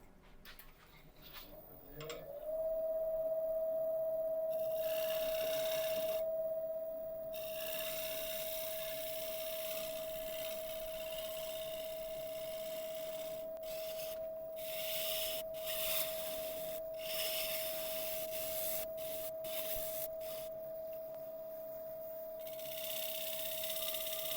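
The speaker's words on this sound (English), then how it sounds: "I need to do a couple of shear cuts on here just to even it up a little bit, which I'll do now" A lathe turning sequoia wood hums with a steady tone while shear cuts are taken on the spinning piece, producing a continuous rubbing hiss broken by short bursts of scraping, close and sustained.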